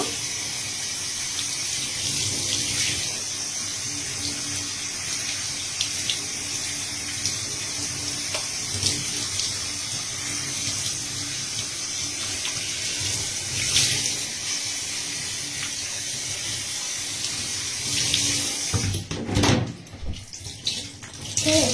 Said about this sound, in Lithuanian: Taip, šiltas vanduo.